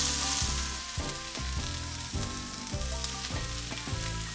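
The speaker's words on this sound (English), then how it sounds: "we're gonna put some olive oil in this pan and get this cooking" Minced onion frying in olive oil in a pan, a steady close sizzle with rhythmic stirring scrapes about twice a second, no voices.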